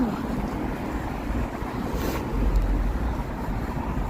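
Strong wind buffets a microphone while walking outdoors in uptown Halifax, Canada, in November near a construction area; steady, rumbling, blustery noise fills the clip with no speech.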